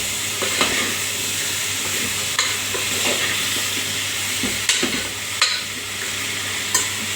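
Shrimp tipped into a hot pan with cluster beans, sizzling and frying steadily while a utensil stirs and scrapes, with sharp clacks at intervals over the continuous hiss.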